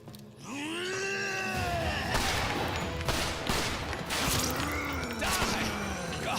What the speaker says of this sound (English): he's shooting him again